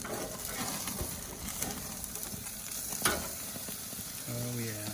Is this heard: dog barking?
no